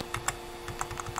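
Keys tapped on a USB computer keyboard while navigating a RetroPie RetroArch menu: about eight light, separate clicks in an uneven rhythm, close and quiet, with no talking.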